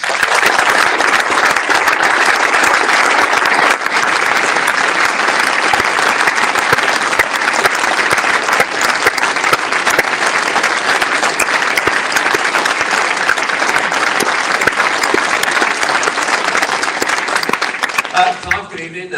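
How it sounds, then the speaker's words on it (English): Sustained, loud round of applause from an audience at a football supporters' trust annual general meeting, dense clapping running steadily for nearly twenty seconds before trailing off at the end. "please give a warm round of applause"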